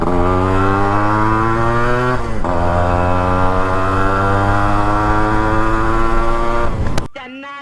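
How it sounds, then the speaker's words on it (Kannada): A Yamaha RX-G two-stroke motorcycle engine runs loud and close at a steady, buzzy idle with one brief blip of the throttle partway through. It cuts off abruptly near the end. "ನಮ್ಮ ದೇಶಕ್ಕೆ ಆರ್ ಎಕ್ಸ್ ಸೀರೀಸ್ನ ಎರಡನೇ ಗಾಡಿ ಆರ್ ಎಕ್ಸ್ ಜಿ"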